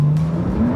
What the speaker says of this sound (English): The acceleration of the new GT2 RS is brutal.